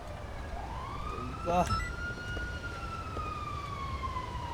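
A police car siren in a GTA roleplay video game wails in a long sweeping tone, with a brief burst of other noise partway through and someone speaking a short word over it.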